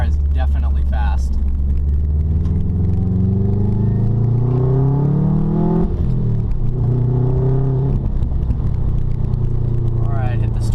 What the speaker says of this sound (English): Alright, acceleration here. First and second gear pull extremely hard.